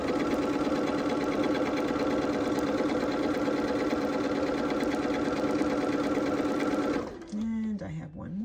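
A sewing machine stitches quilt block pieces for a blue-and-gold Hunter Star quilt, running in one steady, loud, fast-whirring burst for about seven seconds before it stops and winds down.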